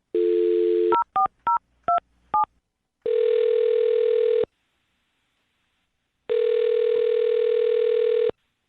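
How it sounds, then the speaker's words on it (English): A telephone dial tone, then a quick run of separate touch-tone keypad beeps as a number is dialed, followed by two long ringback tones with a gap between them, heard clearly with no talk over them. "I'm going to dial her phone number right now."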